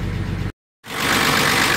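A car engine with a freshly rebuilt alternator runs at a steady idle, then cuts to a brief silence before resuming with an even, continuous mid-pitched hum, close and fairly loud with no talking.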